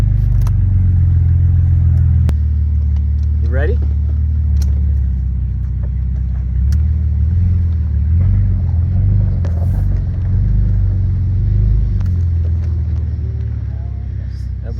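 2003 Ford Mustang on its first drive after front end damage repair, steady low engine rumble and road noise from inside the car, with occasional faint voices.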